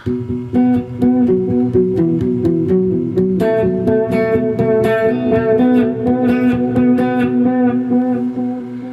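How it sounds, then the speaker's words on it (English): Clean electric guitar picks a melodic line through a TC Electronic Plethora X5 delay, every note echoing in repeating trails that blur the phrases together. "Or just the delay, which is really a flashback"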